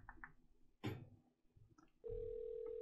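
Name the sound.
telephone ringing in the video game OneShot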